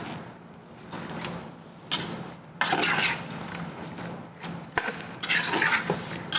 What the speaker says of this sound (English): Mix it all around.